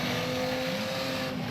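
Stock cars power sliding around a race track bend, their engines giving a steady, loud roar that holds without a break, heard from trackside.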